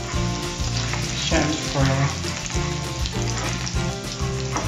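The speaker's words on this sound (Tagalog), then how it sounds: "nag-gisa ako ulit ng bawang" Garlic sautéing in hot oil in a pan for a Cagayan-style pancit noodle dish, with a loud, steady sizzle and a few stirring scrapes, and brief speech over it.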